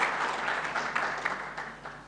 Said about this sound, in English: Let me thank them with a loud applause now